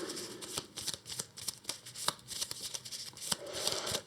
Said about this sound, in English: the other one we shuffle into the path deck.